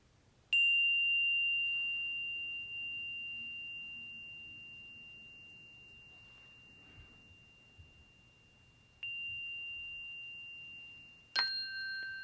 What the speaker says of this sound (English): let's enjoy the sound of this beautiful chime